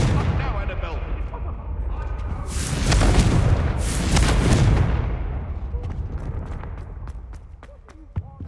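Confringo blasting spell explosions in Hogwarts Legacy, two big bursts of fiery blast roaring over a dense, busy combat din, followed by scattered sharp cracks as the noise settles.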